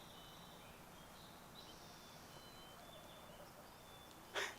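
A wild turkey gobbles once in the distance from Idaho turkey woods, a short faint burst near the end after a long stretch of quiet woodland background with birds and insects.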